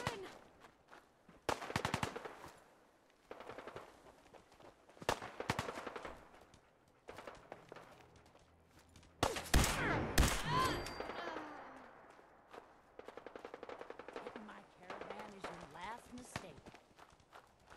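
Gunfire and footsteps from the Fallout 4 video game, set during a raid on raiders, sound in bursts of shots with running steps between them, and a person talks over parts of it.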